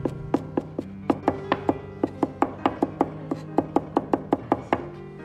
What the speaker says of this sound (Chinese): 大蒜子2颗，先拍破，然后再剁成蒜泥，稍微剁细一点